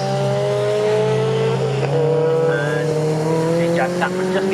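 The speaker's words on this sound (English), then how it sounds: "and Brian Branson now amongst that big group of cars heading up towards Coram." Saloon race cars at Snetterton circuit howl past as a group, engines droning in rising tones with tyre noise, heard over a commentator talking.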